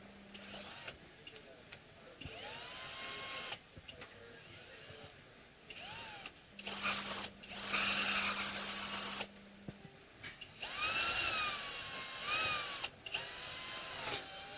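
A power tool whirs in repeated short bursts of a few seconds each while a Martin guitar is being restrung, with rising and falling motor pitch, close and fairly loud, separated by brief pauses.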